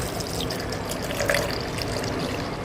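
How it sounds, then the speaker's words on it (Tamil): Milk pours steadily into a grinder jar over figs for fig juice, a soft continuous liquid trickle heard close and fairly quiet, with no talking. "இப்போ நாங்கள் வந்து 3 கிளாஸ் பால் ஊற்ற போகிறோம்."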